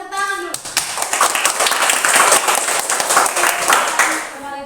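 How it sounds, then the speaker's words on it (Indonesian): A group in a classroom gives a burst of applause, many hands clapping rapidly and close by. The clapping rises quickly, holds steady and then thins out, with voices mixed in at the start and end. "Kita tepuk tangan dulu."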